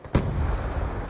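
A single sharp, booming shot from an MP7 in the video game Black Ops 2 on the Nuketown 2025 map, followed by a heavy rumbling low tail, loud and close, with no talk.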